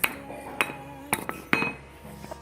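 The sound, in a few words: hammering a bicycle frame straight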